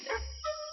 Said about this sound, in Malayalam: ഈ പട്ടി എന്തിനാ അങ്ങനെ കിടന്ന് പറിക്കുന്നത്?